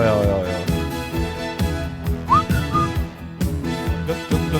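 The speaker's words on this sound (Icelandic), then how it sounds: "Að þú hefur eitthvað verið að blístra" A person whistles a short rising tune over sustained music, fairly loud and mixed with the accompaniment throughout.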